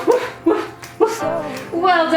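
Children in a yoga class imitate a dog's barking while holding downward dog pose, giving three or four loud, close, yappy woof sounds in quick succession with voices carrying into the last one.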